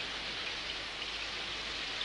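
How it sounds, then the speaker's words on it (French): Heavy rain pours down in a cartoon, a dense, even hiss of falling water that stays constant and fairly soft throughout with no voices. "Il commence à pleuvoir des cordes"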